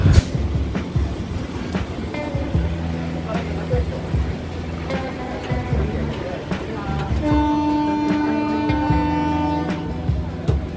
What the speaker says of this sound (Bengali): আমাদের ট্রেন একদম সঠিক সময়ে হিন্দ মোটর স্টেশন থেকে ছেড়ে দিল